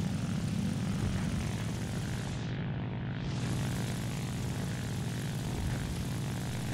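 A propeller fighter plane's engine in a video game dogfight, a loud, continuous droning hum with a steady low throb that holds throughout, with no talk over it.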